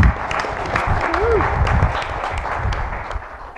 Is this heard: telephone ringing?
no